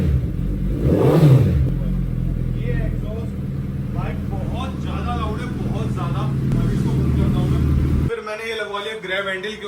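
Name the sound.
Suzuki Hayabusa motorcycle revving with SC Project short can exhaust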